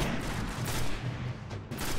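Gunfire in the video game Destiny: a quick series of muffled, booming shots packed into two seconds, loud and up close, with no talking.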